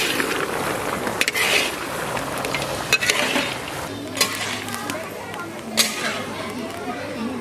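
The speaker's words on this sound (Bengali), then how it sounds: "মাংস কষানোর জন্য এখন আমরা মিট মশলাটা দিয়ে সুন্দরভাবে কষিয়ে নেবো আরো ভালো করে।" Country chicken fries with meat masala in a village-style pan, a low sizzle under near-constant talking, punctuated by a few sharp stirring scrapes and clatters.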